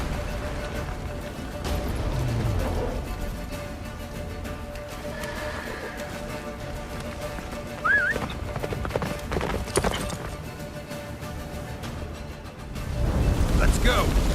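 Galloping horse hooves from the video game The Witcher 3, a steady clip-clop running through the whole stretch beneath game music and effects, with a voice speaking over it.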